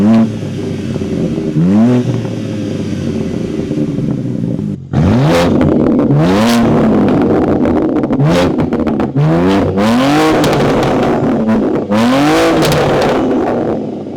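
A BMW M2 G87 with an upgraded exhaust revs repeatedly and loudly, each blip rising sharply and falling away, with crackling pops between revs.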